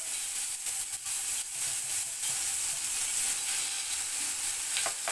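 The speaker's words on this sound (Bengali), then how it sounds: "কড়াই বসিয়ে দিয়েছি, প্রথমে আমি মাছটা ভুনা করে নেব।" Fish frying in a kadai, a steady close sizzle and hiss with occasional soft stirring scrapes, no talk.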